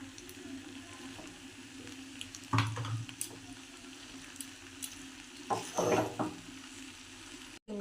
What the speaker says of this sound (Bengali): টমেটোর সস আর একটু চিলি সস দিয়ে আমরা নেড়ে নেবো।